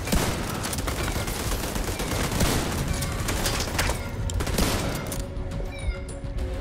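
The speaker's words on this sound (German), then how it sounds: "ich hab dir zweimal auf die Munitionskiste geballert und du kannst immer noch schießen" Dense, continuous gunfire from the video game The Division 2 fills the scene, with rapid overlapping shots and bursts in a busy, loud mix that thins slightly toward the end.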